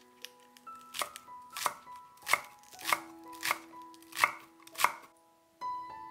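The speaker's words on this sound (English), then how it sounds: "Mince 4 green onions." A knife mincing four green onions for a chicken steamed bun filling, with about eight crisp, evenly spaced chops on a board, close and clear, ending in a brief scrape.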